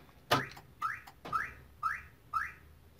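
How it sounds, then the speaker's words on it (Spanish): Five short electronic chirps from a Chevrolet car alarm confirming remote programming, one sharper first beep followed by four evenly spaced tones, clear and close with no talking. "Los cinco pitidos nos indican que ha sido todo correcto."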